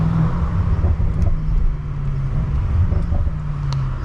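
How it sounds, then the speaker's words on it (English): BMW M5 Competition accelerating on a street, its loud intake and engine noise droning steadily with a low rumble throughout, heard from inside the car. "the intakes on this car are loud"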